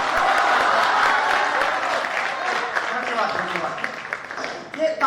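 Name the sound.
audience applause at a poetry recital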